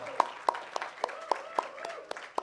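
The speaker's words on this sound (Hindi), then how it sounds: "मोहतरम इकबाल नियाजी सर के लिए जोरदार तालियां" Sparse, light hand claps from a small audience at an Urdu drama performance honoring its writer, about a dozen separate claps spread unevenly over a couple of seconds, faint and a little distant.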